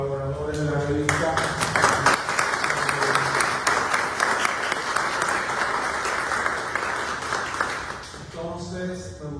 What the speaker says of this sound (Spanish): le damos un aplauso a los colaboradores de la revista